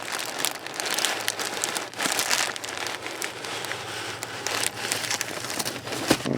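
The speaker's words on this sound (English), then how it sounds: "a little more unwrapping to do" A mailed package holding a rare collectible is unwrapped inside a Jaguar, giving continuous close crinkling and crackling of wrapping paper with a few sharper rustles and no talking.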